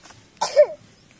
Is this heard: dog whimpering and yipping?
no